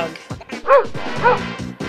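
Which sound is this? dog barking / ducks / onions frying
dog barking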